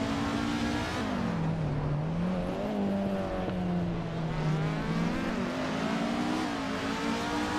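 A Maserati MC12 GT1 racing engine in a racing video game drones steadily at high revs, its pitch dipping and rising with gear changes and throttle, loud and continuous throughout.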